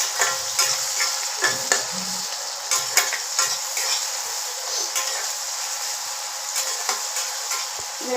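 Chopped onion, chili, ginger and garlic fry in a pan, a continuous bright sizzle broken by the scrape and clink of stirring against the pan, close and fairly loud throughout with no voices.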